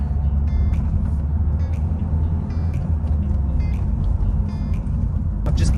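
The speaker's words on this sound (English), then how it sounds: "So now, a bit of a test drive." A Nissan Qashqai J10 car on a test drive after passing its MOT, heard from inside the cabin as a steady, loud low engine and road rumble with faint rattles and ticks, and no talking.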